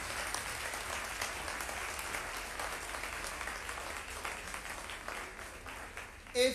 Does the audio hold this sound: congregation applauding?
yes